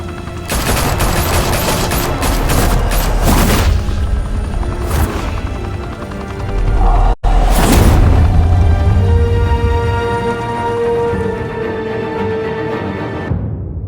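Rapid bursts of automatic gunfire erupt in a Batman Telltale game shootout, loud and close, with sharp volleys, a heavy boom midway and a sustained roar of fire and whirring before cutting off.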